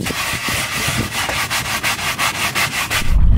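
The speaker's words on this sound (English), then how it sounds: "Gotta scrub the decks." Brush scrubbing the wooden deck of a sailboat at sea, a close, rhythmic back-and-forth rasp of about a dozen strokes, steady and loud, with no talking.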